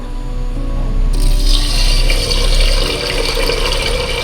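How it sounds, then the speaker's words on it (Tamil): Water gushes loudly into a metal pressure cooker for curd rice, a continuous splashing pour that starts abruptly and keeps running; no voices. "இப்போ இதுக்கு நான் அஞ்சு டம்ளர் தண்ணி ஊற்றுறேன்"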